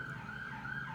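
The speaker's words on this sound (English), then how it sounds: "Sorry for the sirens." Emergency vehicle siren sounding outside, a steady, fairly loud wailing tone with a low road rumble beneath it and no talking.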